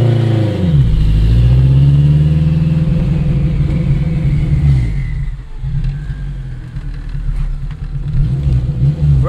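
Straight-piped 800 hp AWD 2002 Acura RSX Type-S with a turbo pulls hard under acceleration, a loud sustained engine roar whose pitch climbs steadily, then a gearshift and a second, deeper surge.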